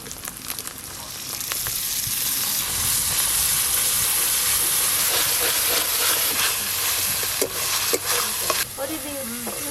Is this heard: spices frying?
yes